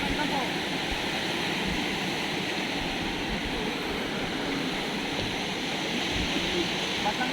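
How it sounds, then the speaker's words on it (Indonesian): River water flowing steadily ahead of a crossing on a rainy trip near Tanjung Binerean, a continuous broadband rush that stays even and fairly loud throughout, with no clear breaks. "Kita akan menyeberangi sungai karena di depan ada sungai"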